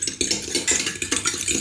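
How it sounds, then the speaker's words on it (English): Cracked eggs being mixed in a jug with a utensil, producing rhythmic clinking and sloshing strokes in quick succession, close and fairly quiet. "mix those eggs"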